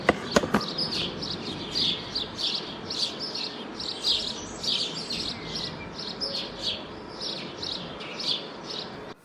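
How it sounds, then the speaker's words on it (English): Many small birds chirp and tweet continuously at a moderate distance, a busy outdoor chorus with steady background ambience. "listen to these birds"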